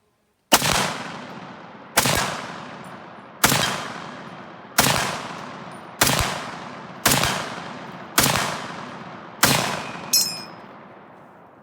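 An M1 Garand rifle fires eight loud, evenly spaced shots outdoors, each with a decaying echo, and the last is followed by the bright metallic ping of the ejected en-bloc clip.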